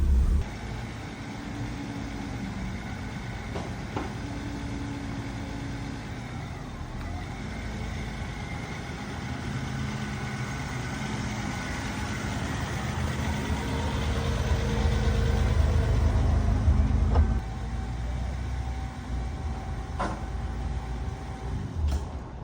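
A BMW E30 engine idling with a misfire, a steady low rumble with an uneven, shaking pulse that builds slightly in loudness toward the end, heard alone without talk.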